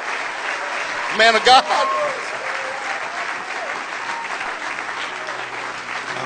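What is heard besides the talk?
audience applause in church welcoming a speaker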